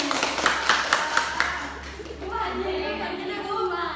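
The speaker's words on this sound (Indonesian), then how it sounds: "tepuk tangan untuk Pasti" A small classroom claps for a student during a micro teaching lesson, a short burst of scattered hand claps for about two seconds, followed by voices talking as the clapping fades.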